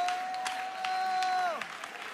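A church congregation clapping hands in praise during a worship service, steady crowd applause mixed with a sustained musical tone that slides down in pitch and faint voices underneath.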